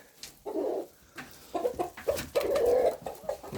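A flock of chickens on a ranch clucks and murmurs at feeding time in short, close, overlapping calls, with no talking over them.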